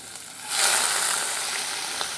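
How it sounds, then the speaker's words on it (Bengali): Shrimp dropped into hot oil in a pan, frying for a yogurt shrimp dish: a steady broadband sizzle that swells loudly as the shrimp go in, then holds close and even without talk. "এর মাঝে আমি এখন চিংড়ি মাছগুলো দিয়ে দেবো"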